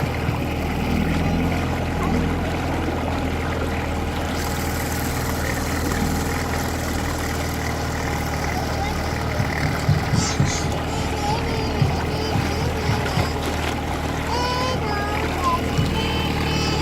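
A 1960 Johnson 5.5 HP outboard motor idles on a boat drifting down a river, giving a steady low drone that runs unbroken for the whole stretch, with light wind and water noise around it.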